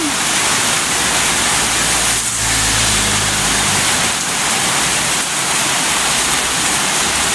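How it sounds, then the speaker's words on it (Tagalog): Rain pours outdoors near a parked motorcycle, a loud, steady, dense roar of falling water with a low rumble briefly swelling underneath, no clear talk. "Ulan lang!"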